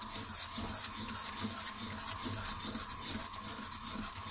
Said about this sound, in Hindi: और जैसे ही हम इसमें आटा डालेंगे, इसको बहुत अच्छे से हमने मिक्स करना है ताकि ये नीचे ना लगे।